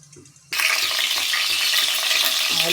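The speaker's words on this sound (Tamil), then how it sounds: "ஆயில் ஊற்றிக்கலாம் ஆயில் நல்லா காயட்டும்" Oil in a pan for mutton chukka bursts into a loud, steady sizzle after a quiet half-second opening, the crackle holding strong and close until the end.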